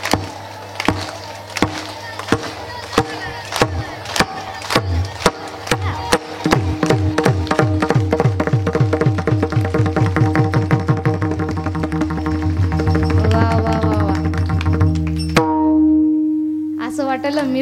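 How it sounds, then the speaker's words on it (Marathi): An audience at a comic Marathi kirtan in Irla claps along in a steady, even rhythm of sharp claps. Singing and music run through most of it, and a held tone is left alone once the clapping stops. "सर्वांची सोबत टाळी आली पाहिजे"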